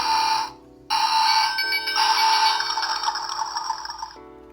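Button sound effect from a Sea-Monkeys Explor-A-Sub toy submarine: a loud, sustained electronic alarm-like tone that shifts pitch partway through, after a brief gap near the start, with no talking.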